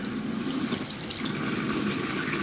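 Warm water runs steadily from a tap over hands being washed, a continuous splashing rush at moderate volume with no talking.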